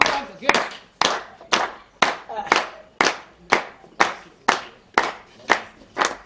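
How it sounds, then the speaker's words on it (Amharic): An audience claps in a steady rhythm at a live Ethiopian comedy show, with about a dozen sharp, evenly spaced group claps over several seconds and no talking. "ሞቅ አድርጉ፣ አጨብጭቡ።"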